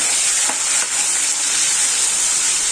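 Mustard seeds pop and crackle in hot oil during tempering for a bitter gourd curry, a loud, steady sizzling hiss up close with faint sharp pops, no voices.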